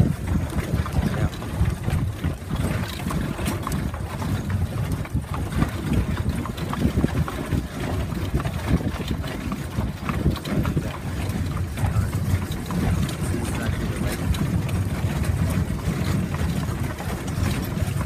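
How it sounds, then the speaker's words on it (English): Wind buffets the microphone while riding in a phaeton, a steady, dense, low roar that gusts and rumbles without letting up for the whole stretch. "Just good wind."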